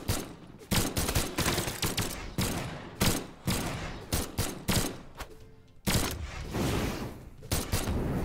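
In the Brawlhalla video game, a gun fires in rapid repeated bursts, loud, punchy blasts stacked one after another with short gaps, with no voices over the shooting.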